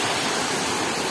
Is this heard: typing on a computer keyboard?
no